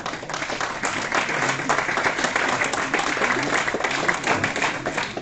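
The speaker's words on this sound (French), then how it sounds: "Mathéo, il est en catégorie U7, lui aussi mérite des applaudissements." A crowd at a youth football tournament draw applauds steadily, with dense, sustained clapping that stays at an even level throughout.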